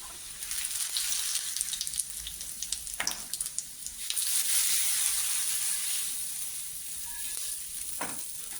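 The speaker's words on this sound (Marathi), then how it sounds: "आणि लसणीची फोडणी करूया" Garlic tempering for a whole masoor curry crackling and sizzling in hot oil, a busy close hiss with scattered pops and stirring clinks, steady and moderately loud throughout.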